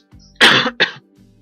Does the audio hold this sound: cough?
yes